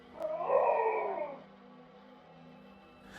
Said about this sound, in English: we heard another loud howl echoing from inside the tree